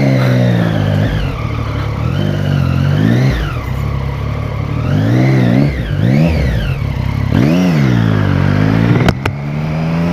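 A Suzuki Hayabusa motorcycle engine revs hard and close, rising and falling through several throttle blips in a continuous loud roar.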